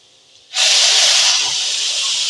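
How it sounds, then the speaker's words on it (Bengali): Hot water is poured onto nearly fried rice in a pan and bursts into a sudden loud hiss of steam that holds steady for a couple of seconds after a quiet start. "এবার এর মধ্যে দেবো গরম জল।"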